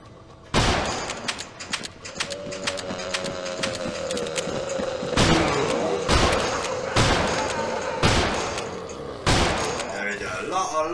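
Repeated gunfire bursts from a firearm in the VR shooter Death Horizon, loud sharp shots in clusters of rapid fire over a steady game background with music.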